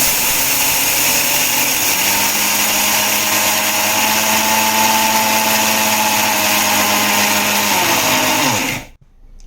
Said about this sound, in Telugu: మిక్సీ పట్టుకుందాం ఫ్రెండ్స్.